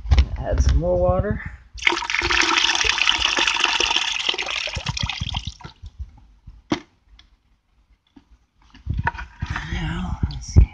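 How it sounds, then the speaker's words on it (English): Water pours steadily into a container during platinum group metal extraction, a rushing splashing stream lasting several seconds, with a person talking before and after it. "I'm going to put this water into here."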